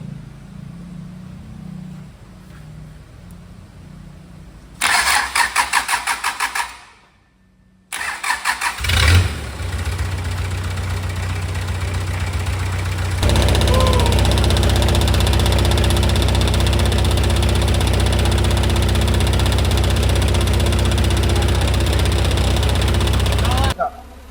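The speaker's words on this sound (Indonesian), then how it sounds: "Selanjutnya kita tes hidup engine diesel 300 ini." A Mitsubishi 4DR5 diesel engine in an L300 cranks with a few bursts of starter effort, catches and then settles into a loud, steady close-up idle with a deep, constant rumble.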